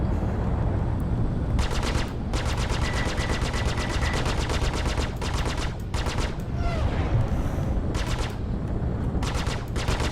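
Rapid bursts of ship weapon fire in the space game Star Citizen, several sustained volleys of automatic shots over a constant engine drone, loud and close, with brief gaps between bursts.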